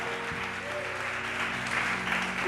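A church congregation applauds the Lord during a worship service, a steady wash of clapping with a faint voice and tonal hum running underneath.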